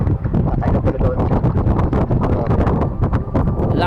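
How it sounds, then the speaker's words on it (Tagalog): Strong wind buffeting the microphone outdoors, a loud continuous rumbling roar with rapid gusty pulses throughout, masking any other sound. "Malakas yung hangin."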